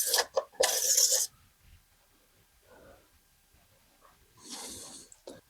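Rag rubbing along an engine oil dipstick on a Mazda CX-50 Hybrid, heard as two loud, close raspy wipes at the start, then quiet, and a softer rubbing swipe near the end.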